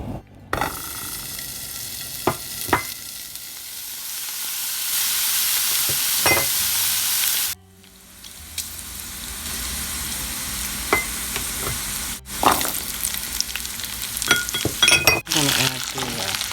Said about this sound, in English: I'm going to start frying up my bacon and my ham.